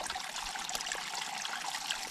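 Steaming hot spring water trickling and bubbling steadily, a continuous bright wet rush close by with no voices over it.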